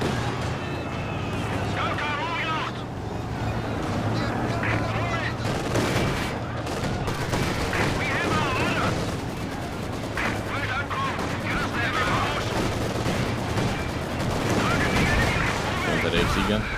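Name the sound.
gunfire from a World War II video game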